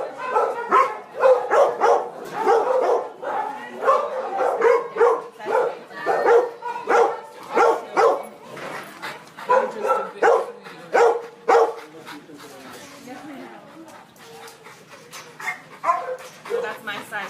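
Dogs at a South LA animal shelter bark, yip and whimper in repeated bursts, fairly close, with people talking over much of the noise.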